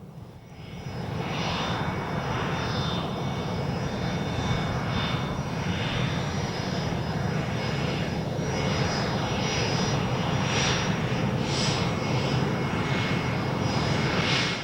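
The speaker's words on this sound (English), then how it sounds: "This is the aircraft arriving on the Wednesday before the show." A Lockheed F-117A stealth fighter of the 37th Fighter Wing arrives at the Mildenhall Air Fete, its jet engine roar swelling into a loud, steady, broad rumble that persists throughout with a high whine layered on top.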